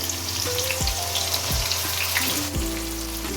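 A pan sizzles and hisses steadily as tomato and water fry, with a few dull clunks from stirring or utensils. No one speaks.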